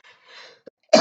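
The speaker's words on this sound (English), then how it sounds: "Hope you don't mind me coughing in this video." A single sharp cough bursts out loudly at the very end, after faint background murmur and a tiny click.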